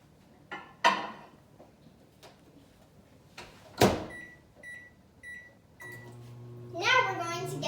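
A microwave oven heating chicken and beans: door clunks and button beeps, then a low hum as it runs, with someone talking intermittently in the room.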